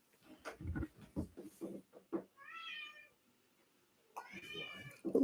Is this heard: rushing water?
no